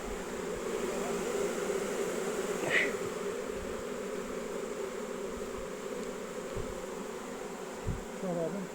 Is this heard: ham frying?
no